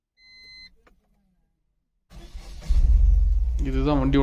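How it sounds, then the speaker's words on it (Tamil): A 2022 Tata Ace Gold petrol BS6 mini truck gives a short dashboard beep. After a pause its engine cranks and catches into a low, steady idling rumble, with someone talking over it at the end. "பார்த்தீங்கன்னா ஸ்டார்ட் பண்ணுற சவுண்டு கேட்டுக்குங்க"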